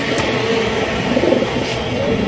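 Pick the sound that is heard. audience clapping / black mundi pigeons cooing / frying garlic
black mundi pigeons cooing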